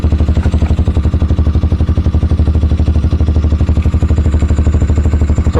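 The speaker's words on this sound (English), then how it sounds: "now we're idling" A Hawk 250 motorcycle, fitted with an upgraded carburetor and exhaust, idles with a fast, even, loping beat that stays close and loud throughout.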